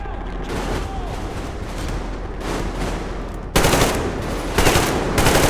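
Dense, rapid automatic gunfire from the PS5 video game Metro Exodus, loud and sustained, growing heavier with sharp bursts in the later seconds as several guns open up at once.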